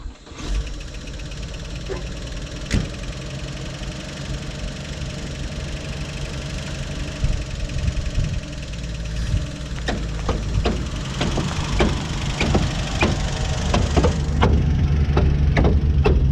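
A 1957 Chevy V8, revived after sitting 47 years, idles and runs steadily at close range, its low rumble joined by knocking clicks and rising revs as the car pulls off, ending in a louder run near the end.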